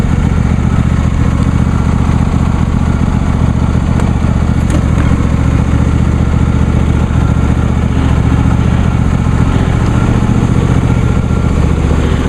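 A John Deere D130 lawn tractor engine runs steadily as a loud, close, continuous mid-pitched drone throughout a ride, with no speech.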